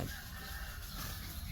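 Chickens cluck around a rural yard in Kampot Province, several birds calling close by in a dense, continuous mix.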